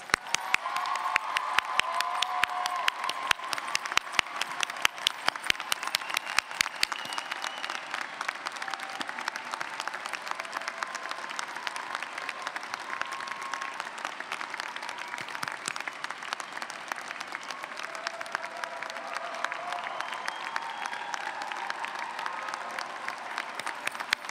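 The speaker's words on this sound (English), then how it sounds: "let's give our graduates another round of applause" Sustained applause for graduates at the 2017 Simmons undergraduate commencement ceremony, a large hall of dense clapping with scattered cheers and whoops, strongest early and holding steady for over twenty seconds.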